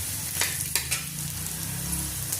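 Peas frying with onions in a pan: a steady, close sizzle with a few sharp clinks and scrapes from stirring, no voices.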